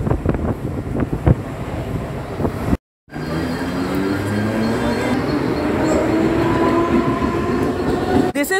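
A Central Railway suburban train runs in Mumbai, heard from aboard as a loud, steady rumble with rattling wheels and wind, cut by a brief drop partway through before the rolling noise resumes.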